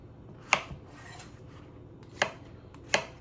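A knife cuts zucchini into quarters for albondigas soup on a board, three sharp chopping strikes spaced apart, close and clear against a quiet room.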